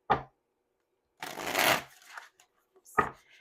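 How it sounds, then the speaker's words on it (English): Cards being riffled and shuffled up close, a couple of quick bursts of fluttering with brief taps in between. "So I'm going to do one more shuffle here."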